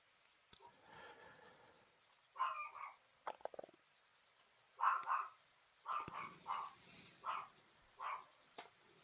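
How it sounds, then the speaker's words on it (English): A dog barks faintly in the background, a scattered series of about eight short single barks spread irregularly across the quiet stretch. "can probably hear my dog"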